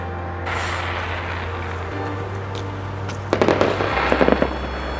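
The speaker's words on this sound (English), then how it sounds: "I think the fireworks is for us." Fireworks popping in the distance on a winter trip in the Alps, a few quick crackling bursts clustered near the end over a low, steady background hum.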